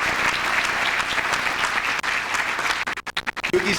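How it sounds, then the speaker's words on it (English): Loud, close crowd applause at a youth sports volunteer recognition event greets the Red Sox organization and a guest named Yuki. The clapping is strong and continuous, then thins into a few scattered claps and rustles at the end. "Big round of applause for the Red Sox organization and Yuki."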